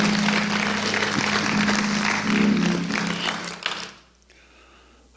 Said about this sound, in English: Give the Lord another hand clap of praise.